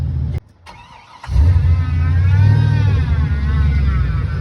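A GMC Sierra 2500 truck with a 6.0 engine cranks on a faulty ignition switch, then catches and fires into a loud, close, rumbling idle that holds steady.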